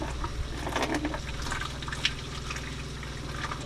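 Water runs and splashes steadily from a tap in a camper van's water system, a continuous close gush with small drips and no talking.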